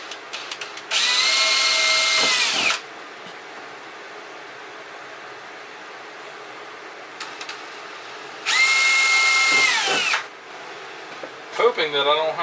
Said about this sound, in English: Just going to have to drill a hole,